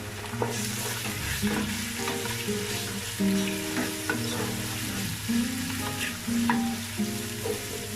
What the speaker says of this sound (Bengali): আদা রসুন পেস্টটা ভালো করে একটু কষিয়ে নিচ্ছি